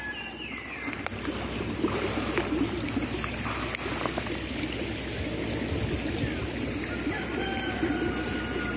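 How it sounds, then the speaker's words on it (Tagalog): Strong water gushes steadily in a stream beside a hillside garden, a loud continuous rushing close by, with faint background noise and no clear voices. "Lakas ng tubig."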